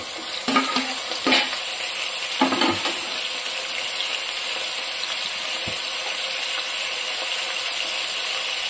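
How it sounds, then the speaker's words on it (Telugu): Bottle gourd and tomato pieces hit a hot pan with a few sharp scraping stirs early on, then settle into a steady, even sizzle of frying close by. "ఇప్పుడు సొరకాయ, టమాటా ముక్కలు వేసేస్తున్నాను"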